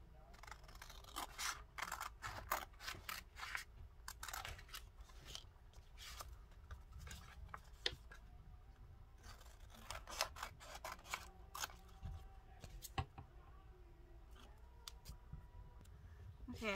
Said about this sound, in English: These aren't the best scissors.